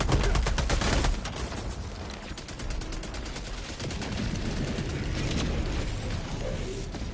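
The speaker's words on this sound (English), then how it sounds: "I think my turrets are hitting him though" Sentry turrets in Helldivers 2 open fire in a fast, loud rattle of rapid shots that then gives way to a dense, sustained wash of continuing gunfire and mechanical clatter.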